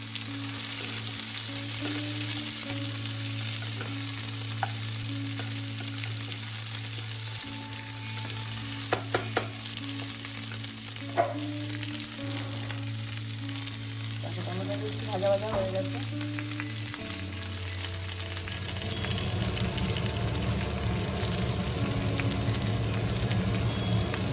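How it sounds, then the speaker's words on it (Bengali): A potato and poppy seed curry with tomato sizzles and fries in a pan, a continuous close hiss with occasional stirring scrapes and clinks, swelling louder toward the end over a low steady hum. "এবার একটু ভাজা ভাজা করে নেবো"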